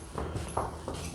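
A horse walks on the ground, producing a few soft, faint hoof clops spaced irregularly over about a second.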